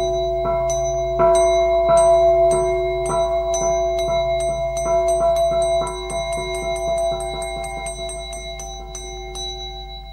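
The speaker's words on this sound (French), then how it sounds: "Le petit gong." A small gong marks the end of a radio show, struck in a run of bright ringing strokes that speed up into a rapid, shimmering roll before fading slightly.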